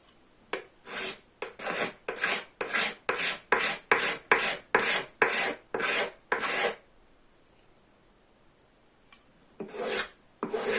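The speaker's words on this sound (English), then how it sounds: "Switch to the scraper." A scraper rasps along wood while shaping a bow saw part: about a dozen rapid, evenly spaced strokes, close and loud, then a pause and a couple more strokes near the end.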